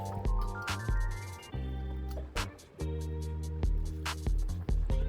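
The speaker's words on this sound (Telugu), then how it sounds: "బియ్యం అలా నీళ్ళు వేసుకుని కడుక్కోవాలండి" Rice is rinsed by hand in a bowl of water for jaggery rice prasadam, giving soft sloshing, squishing and dripping sounds in short irregular bursts, close up and fairly quiet.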